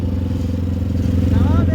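A convoy of motorcycles and trucks rolls through Cochabamba, Bolivia, during blockades, giving a loud, close engine drone with steady low harmonics. A rising tonal sweep near the end sounds like a voice or horn over the rumble.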